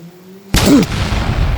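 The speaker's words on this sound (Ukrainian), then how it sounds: "Після нашого з Максимом пострілу цього лося ніде не видно, не чутно" A single loud gunshot at a moose cracks suddenly after a quiet moment in a forest, followed by a rumbling echo that slowly decays outdoors.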